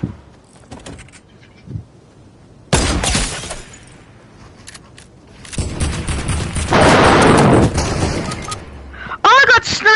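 Bursts of gunfire ring out in a PS4 shooter game, with loud rapid volleys, a longer sustained stretch of firing and scattered sharp sounds between quieter gaps.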